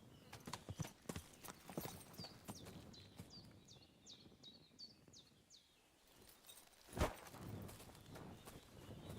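Horse hooves clopping at a walking pace in the video game Kingdom Come: Deliverance II, close and clear, with brief chirping in the background and a louder thump near the end.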